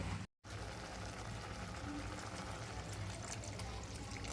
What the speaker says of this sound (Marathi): आता मी पाणी ॲड करणार आहे आणि पाच मिनटं शिजवून घेणार आहे